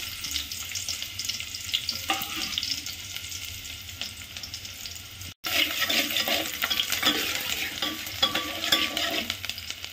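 Onion fries in a pan for egg curry with a loud, close crackling sizzle and stirring scrapes, briefly cutting out midway before resuming more intensely.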